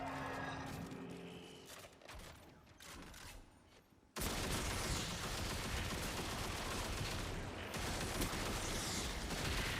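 Rapid, dense gunfire from a weapon in a video game dungeon run erupts loud and continuous after a quieter stretch of game ambience, sustaining a heavy barrage to the end.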